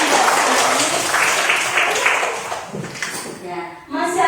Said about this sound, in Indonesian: silakan dulu tepuk tangan buat kami